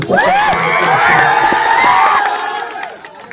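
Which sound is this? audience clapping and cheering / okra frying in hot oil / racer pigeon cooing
audience clapping and cheering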